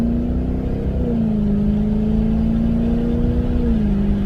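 Lexus LS460 with its muffler removed, heard from inside the cabin while accelerating gently in second gear at about 20 mph: a steady, droning engine hum with a slowly rising pitch, loud and continuous throughout.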